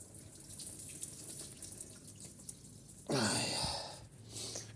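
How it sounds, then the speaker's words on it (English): Water drains away with a faint trickle that breaks into a louder burst of gurgling lasting about a second and a half, close by in a quiet room with no talk. "You'll hear a little gurgling noise in a minute. That's going down."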